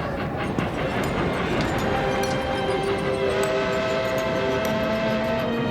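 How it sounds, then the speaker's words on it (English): Train running on rails, a loud steady rumble with faint clickety-clack and sustained whistle-like tones rising through the middle, continuous and close with no voices. "So they boarded a train and headed east."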